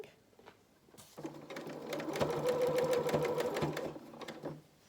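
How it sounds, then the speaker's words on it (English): A sewing machine stitches raw fabric edges together for frilled children's shorts and dungarees, starting after a second and running steadily and close for about three seconds of rapid stitching before slowing to a stop. "Get your raw edges together as you're sewing."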